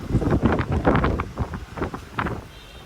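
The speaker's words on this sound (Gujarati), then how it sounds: "પવન તો જો રિયા ગાડી આખી હલે છે" Strong gusts of wind buffet and rumble against a car, surging in uneven bursts that rise and fade.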